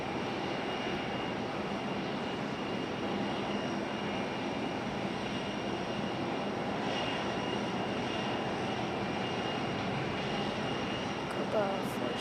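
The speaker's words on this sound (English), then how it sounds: "Copa 466, 737-800, and from Panama City" A Copa Airlines Boeing 737-800 from Panama City lands in gusty wind at Raleigh-Durham, a sustained broad jet roar with a thin whine on top, steady and unaccompanied by talk.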